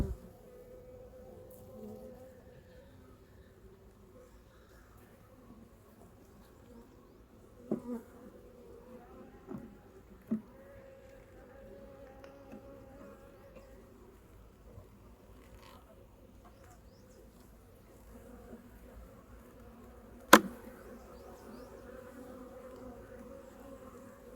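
Honeybees hum steadily around an opened double-deck hive during a spring inspection, a soft continuous buzz close by with a few sharp knocks and clicks from handling the frames.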